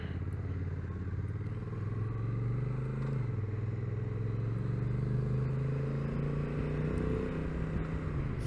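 A Honda NT1100 DCT motorcycle climbs a hill, its engine humming steadily up close as the automatic gearbox shifts, with a pitch drop around one gear change and wind rushing over it.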